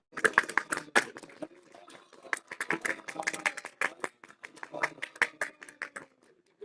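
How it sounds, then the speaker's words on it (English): A room audience at a Hare Krishna gathering claps for a guest speaker, giving an uneven patter of many hands that swells and thins over several seconds, with a few louder claps standing out. "Let's give a big round of applause to our guest, His Grace Srutakirti Prabhu."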